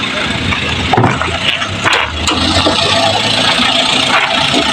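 A 2008 Maruti Swift Dzire engine idles with a steady low rumble close by, broken by a few clicks and knocks, while someone talks over it.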